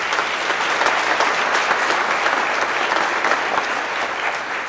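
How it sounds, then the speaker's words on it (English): Audience at a company monthly celebration breaking into a round of applause, dense continuous hand clapping from a crowd at close range, steady and loud throughout with no speech on top. "Let's give him a round of applause."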